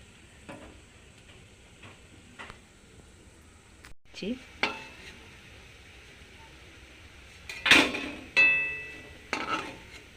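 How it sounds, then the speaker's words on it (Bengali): Fritters (bora) frying in a pan, a soft oily sizzle under scattered clinks and scrapes of a utensil against the pan, with a few louder knocks near the end. "ঠিক এইভাবে ভাজবেন বড়াগুলো।"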